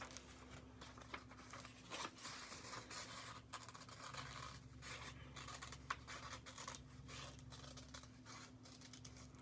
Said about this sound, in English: we are going to cut out his nose.